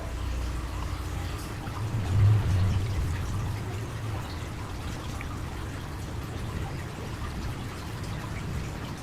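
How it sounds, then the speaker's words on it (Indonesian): Coolant poured into the radiator of a Honda Vario 125 scooter, a steady close liquid pour and trickle lasting several seconds with no talking. "Ini air coolantnya kita isi ya."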